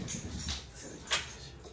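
A dog makes soft, brief whimpering sounds during an exercise session, the little whines coming close and fairly quiet with one sharper high yelp partway through.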